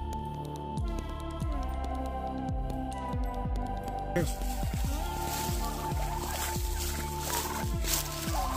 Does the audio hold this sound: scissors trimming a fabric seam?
no